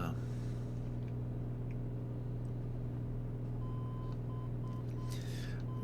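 Morse code identifier of a VOR navigation beacon tuned on the nav 2 radio of a Piper Comanche in Microsoft Flight Simulator, a short series of faint high beeps over a steady engine drone.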